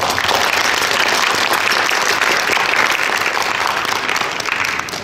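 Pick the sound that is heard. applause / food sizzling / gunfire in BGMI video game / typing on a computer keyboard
applause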